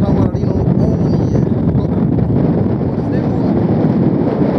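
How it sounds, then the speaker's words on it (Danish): Strong gusting wind in a snowstorm roars loudly and continuously against the microphone, with brief surges, and a voice is faintly heard under it. "Vinden kommer meget i stød."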